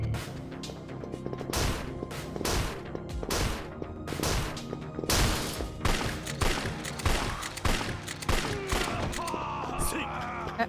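Rapid gunfire in the Yakuza 4 video game cracks out as loud, repeated shots in an uneven volley that runs the whole stretch, with some game voices mixed in.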